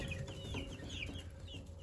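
Young farm chickens about a month and a half old cluck and chirp in a pen, a busy stream of short overlapping calls close by over a low background hum, with no talking.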